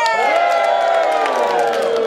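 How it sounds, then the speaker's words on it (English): An audience at a stage performance of Cyrano de Bergerac by the World Showcase Players erupts in loud cheering and high, sliding whoops that hold steady for about two seconds. "And the crowd goes wild!"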